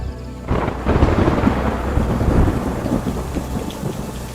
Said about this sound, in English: Then the first rains arrive.